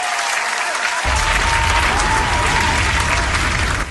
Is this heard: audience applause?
yes